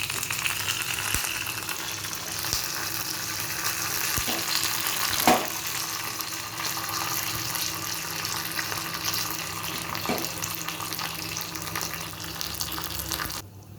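Dried red chillies and curry leaves crackle in hot oil for a chutney tempering, a steady close hiss with a few sharp pops, sounding somewhat watery and even, with no one talking.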